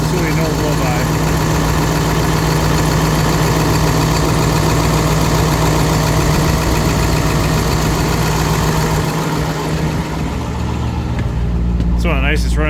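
A 2005 International 7.3 T444E diesel engine with 229,000 miles idles loud and close, a dense steady rumble that holds for most of the stretch before a brief dip and some clatter near the end.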